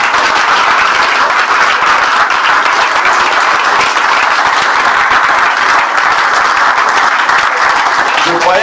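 A church congregation claps and applauds to acclaim Jesus, a loud, continuous and dense wash of hands heard close by with voices mixed in throughout.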